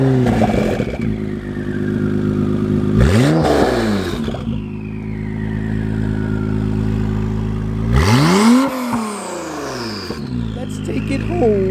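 An all-carbon sports car engine revs hard twice while driving, rising and falling surges over a steady close engine drone inside the cabin.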